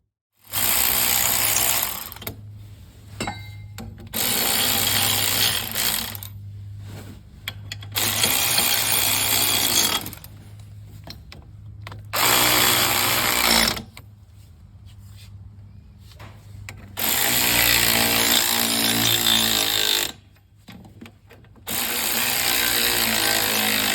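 Power tool runs in repeated bursts of about two seconds with short pauses between, tightening the U-bolt nuts on a car's rear axle assembly in a home garage; the bursts are fairly loud and close, with no talking.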